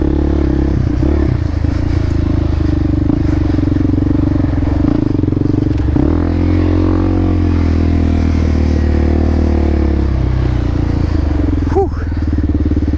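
Kawasaki Z400 motorcycle riding along a dirt trail, engine droning steadily and loud up close throughout, with clattering and scraping from the rough ground and a brief rev near the end.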